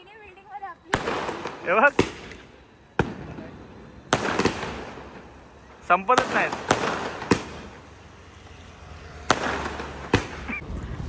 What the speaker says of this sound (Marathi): फटाके पण फोडतोय आणि शूट पण चालू आहे आमचा